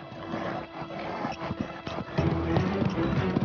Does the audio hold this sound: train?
no